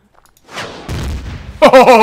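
A brief burst of gunfire from a weapon in the space survival game Empyrion Galactic Survival follows near silence, a short rough crackle that ends as a voice starts talking.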